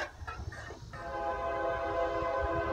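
Southbound Norfolk Southern freight train heading from Charlotte toward Atlanta, its horn sounding a long sustained blast that swells and holds steady after a few rumbling, clattering seconds of the approaching train.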